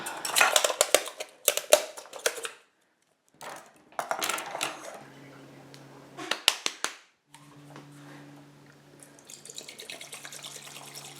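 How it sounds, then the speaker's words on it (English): Metal parts of a camp stove clink and rattle as the upper half is tucked into the base, in several sharp bursts with brief pauses, followed by a faint steady hum. "assemble the stove by tucking the upper half inside the base, right side up"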